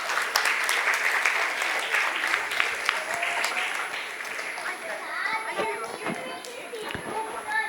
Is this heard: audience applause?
yes